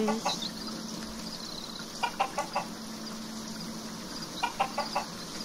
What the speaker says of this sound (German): Hallöchen, meine Hühner. Ich habe was zu fressen für euch.